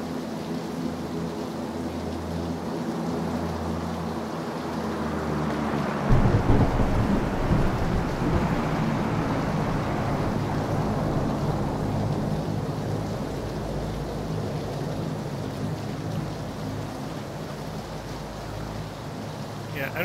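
Steady rain with rumbling thunder in the video game PlayerUnknown's Battlegrounds, a continuous broadband wash that swells after a heavy low rumble and holds loud throughout, with no speech over it.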